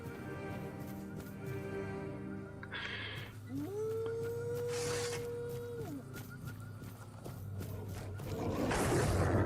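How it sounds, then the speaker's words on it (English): A wolf lets out a single long, wavering howl in the video game Tainted Grail: Fall of Avalon, rising and holding for a couple of seconds over ambient game sounds and background music. "I know I heard a wolf"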